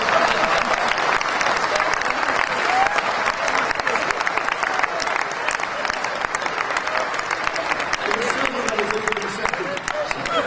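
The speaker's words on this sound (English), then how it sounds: "Round of applause." An audience at a Rotary International conference in Bournemouth bursts into sustained applause, dense steady clapping from a large crowd lasting throughout, with a voice speaking over it.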